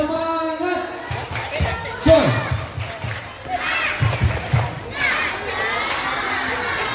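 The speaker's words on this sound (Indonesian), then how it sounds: "Oke, tepuk semangat" A group of children doing a rhythmic spirit clap chant, excited shouting voices mixed with patterned clapping, lively and close, with a lone adult voice at the start.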